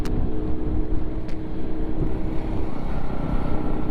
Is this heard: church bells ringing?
no